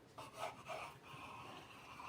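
A knife cuts through salty croissant dough crosswise, a few soft, close raspy strokes with a faint scraping texture.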